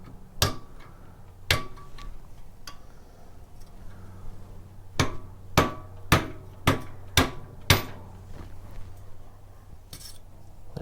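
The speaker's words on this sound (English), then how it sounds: "Get like a little punch" Sharp metallic hammer strikes on a punch, removing the governor from a Warrior 200cc engine, a few scattered hits and then a steady run of about six evenly spaced blows, with quiet shuffling between.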